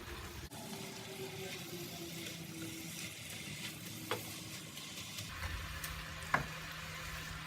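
Spinach fries in a hot pan with a soft, steady sizzle, broken by occasional scrapes and clicks of stirring; close but fairly quiet, with a louder frying hiss building toward the end.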